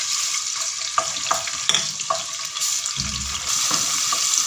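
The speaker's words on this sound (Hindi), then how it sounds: "अब इसमें हम लहसुन का पेस्ट डाल देंगे" Garlic paste frying in hot oil or ghee in a karahi gives a steady, bright sizzle with a few soft clicks and stirring sounds, close by. No one speaks.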